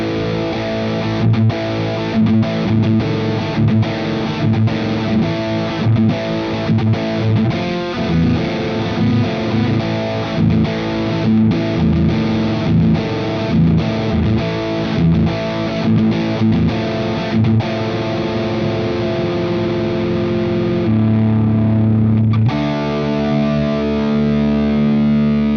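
Electric guitar played through a Friedman amp plugin with the saturation switch engaged, giving a loud, continuously distorted run of chugging chords and riffs that settles into a held chord near the end.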